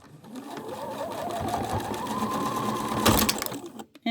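A sewing machine stitches fabric in a steady fast whir with a rising motor tone, then a sharp clatter near the end as the needle breaks and the machine stops.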